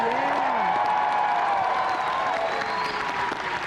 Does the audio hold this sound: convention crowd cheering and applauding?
yes